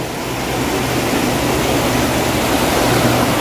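The Cipeles River in Sumedang flows past the riverside village of Rancaniti, a constant broad rushing of water that stays close and fairly loud, with no voices.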